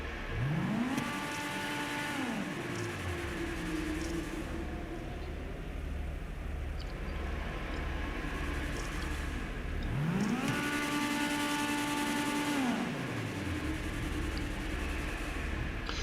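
An Elegy sports car in GTA 5 Online drives past twice, its engine note rising and falling as it revs up and eases off in two long sweeps over a steady low rumble, loud and close throughout with no talk.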